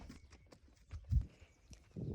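Horse hooves clip-clopping at a slow, uneven walk during a ride in Samburu, Kenya, a few soft thuds at close range with faint background sound.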